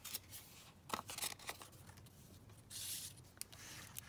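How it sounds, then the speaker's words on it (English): Paper being torn by hand for a ring-bound junk journal: several short, rough ripping bursts with brief pauses between them, close and quiet. "Let's tear this one down a bit more."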